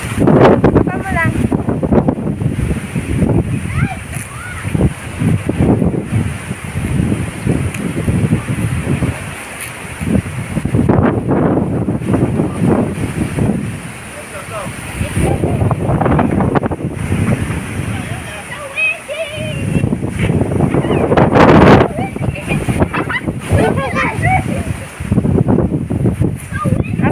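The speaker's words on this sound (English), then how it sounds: "It's so windy." Strong wind gusts roar across a backyard on a windy afternoon, a steady blustery rumble rising and falling in loud surges while several people talk over it.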